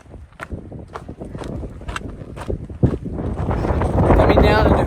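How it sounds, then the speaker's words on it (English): Wind gusts rush past the microphone while hiking down into Hermit Camp in the Grand Canyon, with footsteps at first and the blustering growing louder and more constant toward the end. "Coming down into Hermit Camp. It's windy."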